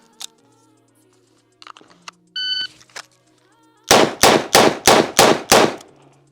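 Six sharp, loud .357 shots from a Smith & Wesson 586 L-Comp revolver, fired in a quick steady rhythm after a few scattered clicks, clanks and electronic beeps from a shot timer.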